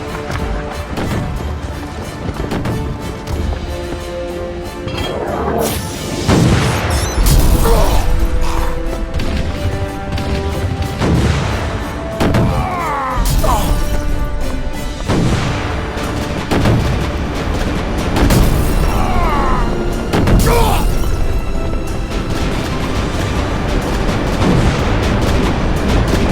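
Cannon and artillery fire in a Napoleonic battle at Austerlitz: repeated heavy booms and crashes over a dense, continuous roar of battle noise, loud throughout.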